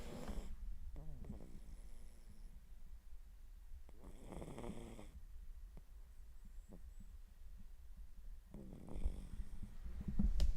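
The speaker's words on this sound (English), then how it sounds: "see if you can pick up my dog snoring" Dog snoring faintly in three slow, rasping breaths spaced several seconds apart, low and close under a constant background hum.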